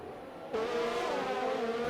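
An F1 2020 race car roars past in a Formula 1 race at Abu Dhabi, its engine note cutting in abruptly and holding a loud, high whine with a slight falling pitch, heard alone.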